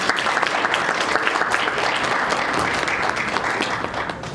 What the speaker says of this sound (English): I would just like to have everyone give a round of applause to Kim and Denise for this.